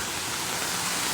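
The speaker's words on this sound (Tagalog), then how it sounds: "Malakas ang ulan ngayon. Sobrang lakas." Heavy rain pouring onto a city street in Birkirkara, Malta, a dense, even hiss of steady downpour, close and continuous throughout the short moment.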